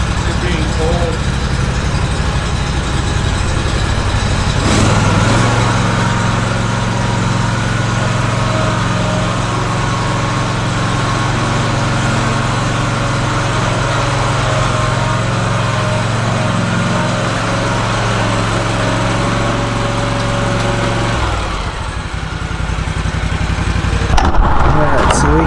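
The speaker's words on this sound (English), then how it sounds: "we got the BR600, you guys, for our blower" A Stihl BR600 backpack leaf blower's engine runs loud and steady at close range for most of the stretch, then cuts off near the end, with people talking over its drone.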